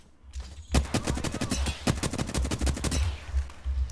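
Rapid bursts of gunfire from many directions during an Apex Legends firefight, dense overlapping shots with brief pauses, loud and continuous through most of the stretch.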